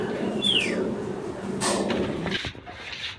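Four caged aviary birds call with a clear chirp and a few softer notes, near and moderately loud over a steady background, with a voice faintly present.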